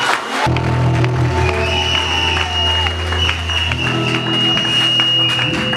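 Crowd at a reception for a presidential delegation to the bishops of DR Congo, applauding and cheering continuously around a tonal musical backdrop, dense and sustained with voices mixed in.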